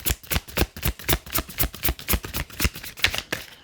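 Tarot cards being shuffled by hand, a rapid, steady run of crisp riffling slaps about four or five per second, close and clear with no talking.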